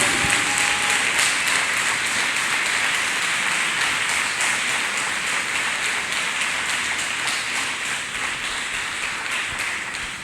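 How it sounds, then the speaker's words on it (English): A church congregation claps for Jesus Christ, a dense, loud wash of many hands that runs without a break and fades slightly toward the end. "Let us clap our hands one more time for Jesus Christ."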